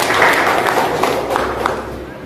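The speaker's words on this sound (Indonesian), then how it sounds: "Tepuk tangan untuk kita semua." Applause at the opening of a school workshop for teachers and staff, a dense, even roar of many hands from a room full of people, loud and continuous.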